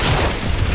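Gunfire in a video game, a dense burst of loud, booming shots packed tightly together in under a second, with no talking.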